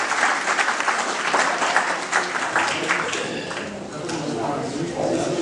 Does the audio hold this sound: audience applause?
yes